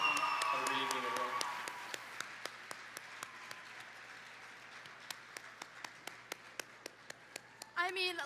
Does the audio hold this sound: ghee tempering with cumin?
no